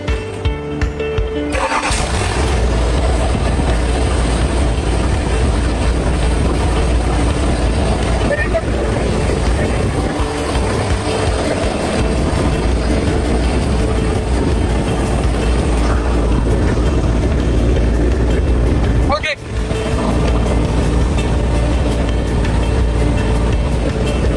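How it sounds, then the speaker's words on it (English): A Sany excavator's Isuzu 4HK1 diesel engine turns over and catches, then settles into a loud, steady idle that runs on unbroken, with a brief dip near the end and some talk in the background. "Now I start the engine to see it's okay or not."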